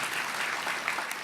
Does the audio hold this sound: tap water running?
no